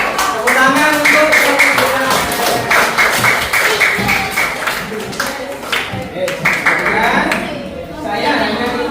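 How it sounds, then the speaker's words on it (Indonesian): A classroom of students in an English lesson claps in quick, uneven bursts mixed with chatter and voices, the applause loud at first and then trailing off into scattered taps. "Tepuk tangan untuk"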